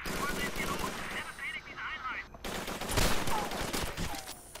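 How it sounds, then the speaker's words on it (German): Rapid gunfire bursts from a Call of Duty 3 firefight in a wine cellar, dense and loud throughout, with a heavier blast near the end and voices shouting faintly in the mix. "Der tödliche Schuss ins Knie."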